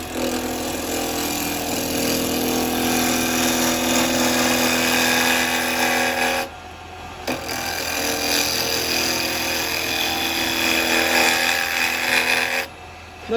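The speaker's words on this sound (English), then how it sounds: "Now I'm going to start using the square chisel" A square carbide chisel shears across a firewood natural-edge bowl turning on a lathe, making a loud, close, continuous rasping hiss that stops briefly about midway, resumes, and cuts out again just before the end.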